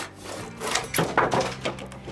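A handsaw cutting soft cypress wood for a console table edge: a few close, rasping back-and-forth strokes, loud and unaccompanied by speech.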